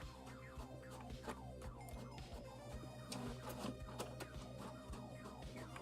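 A home printer printing documents for work, heard as a quiet, steady run of repeated mechanical clacks and whirs in a small indoor room, with no voices.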